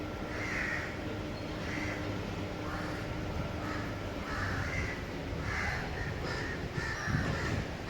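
Crows caw repeatedly from perched birds at a nature spot, the harsh calls recurring in short bursts over steady outdoor background noise, moderately near and fairly loud throughout.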